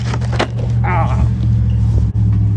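Traxxas 4Tec 1.0 RC car with a Titan 12t brushed motor running flat out on 2S, a loud steady motor whine and rumble with a brief dip near the end.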